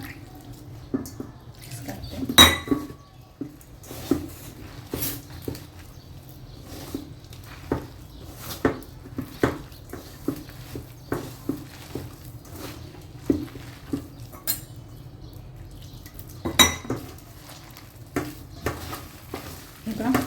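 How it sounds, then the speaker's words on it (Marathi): Alu vadi batter is mixed with water in a bowl, making soft, wet, irregular stirring and slapping sounds that repeat close by and fairly quietly, with no speech. "आता मिक्स करून घेते आणि हे मिश्रण आपण कालवून घ्यायचंय"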